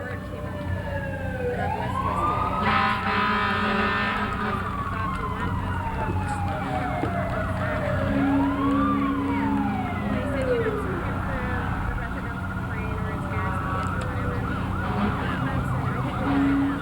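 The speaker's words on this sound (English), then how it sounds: "Coming up are the Lansing Fire Department under the direction of Fire Chief Ralph Schauer, Jr." Fire department vehicles roll through the 1995 Good Neighbor Day parade in Lansing, their sirens wailing in long rising and falling sweeps, loud and continuous over a steady background rumble.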